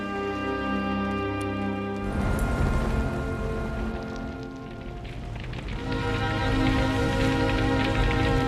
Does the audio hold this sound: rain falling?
yes